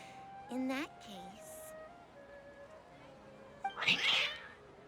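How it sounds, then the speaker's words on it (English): Upset cats meowing in Genshin Impact's Sumeru region: two drawn-out, wavering meows early on, then a louder, harsher yowl near the end, with quiet stretches between. "Why are the cats upset?"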